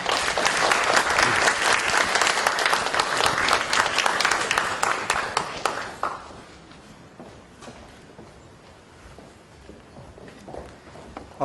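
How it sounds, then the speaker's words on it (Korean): Loud, dense applause from an audience welcoming a professor at an academic lecture fills the first half, then dies down into scattered faint claps and room noise. "큰 박수로 맞이해주시기 바랍니다"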